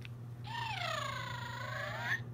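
A purple pygmy puff plush toy gives a short electronic squeaky trill, rising and falling like a cat's meow, fairly faint over a quiet background hum.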